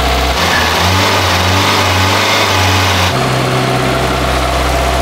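A Peugeot 205 engine idles steadily and loudly up close as the radiator cooling fan kicks in partway through, adding a broad whooshing rush over the low, even engine hum.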